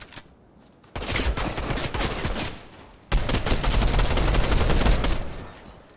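Gunshots in Fortnite: two loud, sustained bursts of rapid fire, close by, the first lasting about two seconds and the second about two and a half, separated by a short lull.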